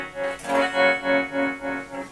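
Guitar run through a Strymon Flint tremolo pedal on its 63 tube setting, a sustained chord swelling and dipping in a slow, steady pulse of about five beats, heard alone and up close.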